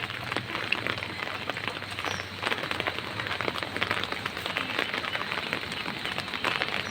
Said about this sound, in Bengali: আজকে আল্লাহ তাআলার অশেষ রহমত ঝরে পড়ছে, বৃষ্টি